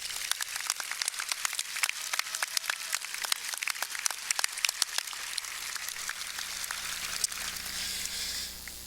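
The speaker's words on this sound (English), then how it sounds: "So I would appreciate a round of applause for these kids" An audience at a high school graduation ceremony applauds senior athletes, sustained crowd clapping with sharp individual claps standing out, fading slightly near the end.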